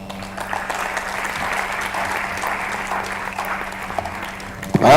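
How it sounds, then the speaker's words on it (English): A crowd applauds at the UNILAG International Week opening ceremony, sustained even clapping that fills the room for several seconds before a louder burst near the end. "Another resounding round of applause"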